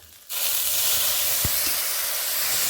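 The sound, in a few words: spice paste sizzling as water is added to frying spices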